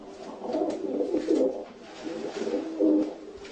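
Racing pigeons coo in low, throaty, repeated bursts close by, several soft calls overlapping with brief pauses between them.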